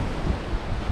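Wind blows hard at the Fairport Harbor lighthouse in Ohio, a gusty low rumble buffeting the microphone, with waves cracking against the wall in cold, rough water.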